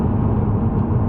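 A steady low engine rumble from a 2003 VW Golf R32 VR6 drones on without a break, a deep idling growl that stays at an even loudness and has no voices over it.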